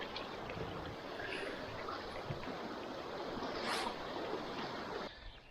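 Continuous rushing water from wading across a creek, with wind noise and splashing, fairly steady, no talking.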